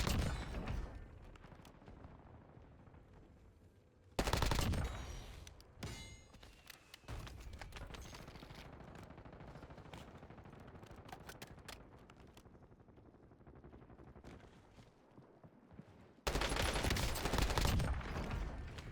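Kilo rifle fired at ultra long range around a tower and HQ in a video game, bursts of loud gunfire opening and closing a stretch of quieter rattling shots and thuds, with no voices.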